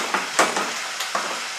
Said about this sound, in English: So when I fry the onions, I'll put this here.